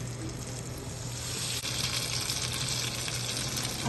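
Hot oil sizzles steadily in a pan, heating for frying ghewar, a broad continuous crackle with a low steady hum underneath, no talk.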